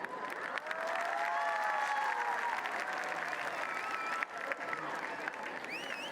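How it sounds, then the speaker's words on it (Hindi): A large stadium crowd at the opening ceremony of the Khelo India University Games in Odisha claps in a continuous, loud roll, with whistles and cheers rising over the steady applause. "स्टेडियम में बेटियों की तालियों की गूंज बहुत तेज हो रही है"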